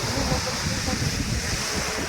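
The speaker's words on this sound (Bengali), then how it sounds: "আর এই যে সমুদ্রের আওয়াজ" Ocean waves wash onto the beach at Mousuni island in the afternoon, making a continuous broad roar of surf with some wind noise.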